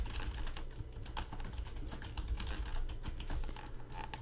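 Fast, continuous typing on a computer keyboard, close and quiet, with dense key clicks in uneven bursts and no talk.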